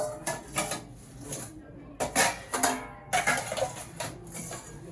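New serving bowls for holding cooked curry are handled, giving irregular clinks and knocks of dishware against each other in close, uneven bursts with short pauses between.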